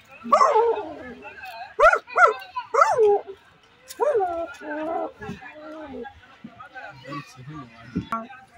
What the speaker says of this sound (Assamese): মই আপোনাৰ কুকুৰৰ মাত এবাৰ শুনাই দিছোঁ বাৰু